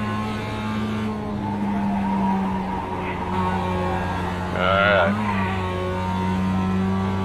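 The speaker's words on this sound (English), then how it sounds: "Here we go, some nice trail braking into this corner." An iRacing race car trail brakes into a corner: a loud, steady engine drone with shifting pitch, a brief tire squeal near the middle, and someone speaking briefly over it.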